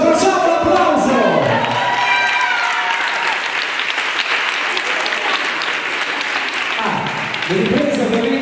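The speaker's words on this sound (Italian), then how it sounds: "Ci abbracciamo, un applauso!" A crowd at a Zumba fitness event breaks into sustained, dense applause with some cheering, loud and steady throughout, swelling slightly near the end.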